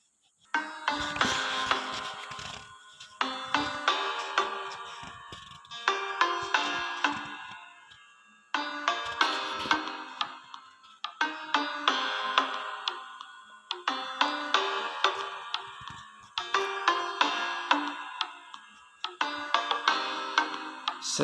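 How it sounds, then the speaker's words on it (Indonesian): A loud song blares from a mobile phone's speaker, pulsing in repeated bursts for about twenty seconds with brief gaps between phrases. "tiba-tiba si Budi salah pencet HP lalu terdengar lagu keras-keras"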